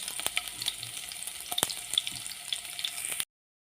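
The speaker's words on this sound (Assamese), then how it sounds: "নহৰু আৰু জলকীয়া ভাজি ল'লোঁ" Garlic and green chillies frying in a little oil with fenugreek seeds in a pan, a steady close sizzle with sharp pops and crackles before it cuts off abruptly.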